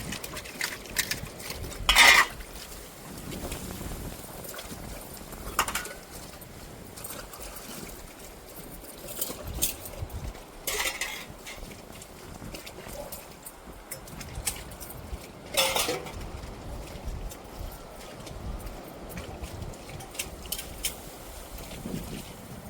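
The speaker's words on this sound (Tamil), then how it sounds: "இப்போ சாப்பிட்ட பாத்திரங்கள் எப்பலாம் கழுவிட்டு இருக்கு" Dishes from lunch being washed by hand: running and splashing water with intermittent clatters of utensils, fairly close and steady throughout.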